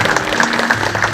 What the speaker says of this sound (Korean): 용 교수님께 다시 한 번 더 감사의 박수 부탁드리겠습니다.